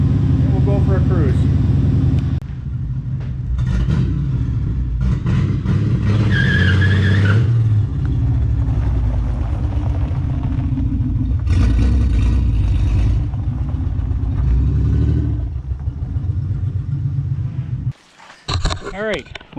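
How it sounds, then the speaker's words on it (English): A 1994 Ford Ranger with a swapped-in 4.0 OHV engine and manual transmission revs loudly as its tires spin and scrub, with engine surges rising and falling up close while voices talk over much of it. "She spun the tires, goes forwards, goes backwards."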